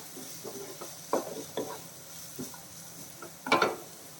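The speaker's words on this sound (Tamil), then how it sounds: "வெங்காயம் வந்து நல்லா வதங்கணும்" Soft sizzling of onions sautéing in a pan with intermittent scraping stirs, a few louder clatters of utensil against metal, close by.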